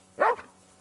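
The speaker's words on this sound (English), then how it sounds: "No one wants to hear your barking." A single short bark from a dog in the medieval video game Kingdom Come: Deliverance 2, faint and brief against quiet background hum.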